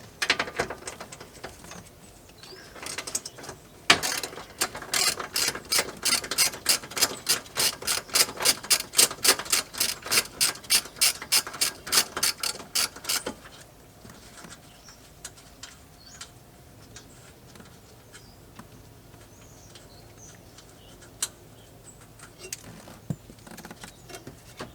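A ratchet works a 10mm bolt loose from the dashboard of a 1999-2007 Chevrolet Silverado, Tahoe or Suburban, giving a close, rapid run of even clicks for several seconds, then quieter scattered tool noises.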